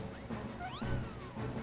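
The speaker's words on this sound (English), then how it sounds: "That chocobo chick sounds like Gwen." A chocobo chick in Final Fantasy XIII gives a short, rising-and-falling chirp resembling a cat's meow, brief and moderately quiet over game background sound.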